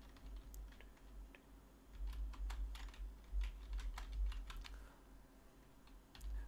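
Close, quiet typing on a computer keyboard while entering text into a Google Form, with quick irregular key clicks that come in bursts and short pauses.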